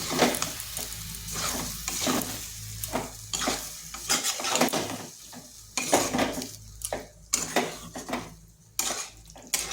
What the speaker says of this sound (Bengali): এবার মশলার সাথে ভালো করে এটাকে কষিয়ে নিতে হবে।